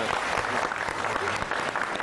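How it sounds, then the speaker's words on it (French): An audience claps for itself in a steady, full burst of applause that carries without a break from start to finish. "Je vous demande de vous applaudir pour vous-même."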